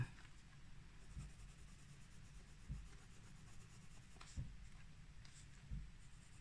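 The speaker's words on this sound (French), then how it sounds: "je repasse pour ombrer et pour lisser le tout" Coloured pencil shades and smooths over paper while colouring monstera leaves, giving a faint, soft scratchy rubbing with a few louder strokes spaced through it, quiet and close.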